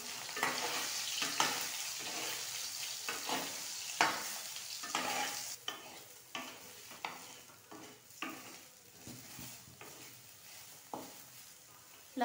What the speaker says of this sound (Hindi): तेल गरम हो जाएगा तब मैं इसमें सोयाबीन को सबसे पहले भूनूंगी